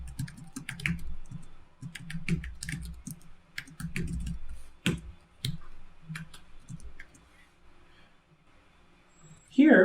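Computer keyboard typing in bursts of crisp clicks and taps, close and fairly quiet, with a low voice murmuring underneath and a brief louder noise at the very end.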